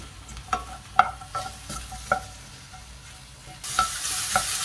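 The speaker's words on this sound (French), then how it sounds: "Sauter quelques minutes dans de l'huile chaude" Mushrooms sauté in hot oil in a frying pan for a pan-cooked pizza topping, sizzling steadily while a utensil stirs them in several distinct scraping strokes. The sizzle grows louder toward the end.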